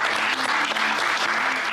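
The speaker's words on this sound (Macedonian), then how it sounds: "Еден аплауз." Audience applause, a dense, steady wash of clapping that fills the whole stretch, close and loud with no pauses.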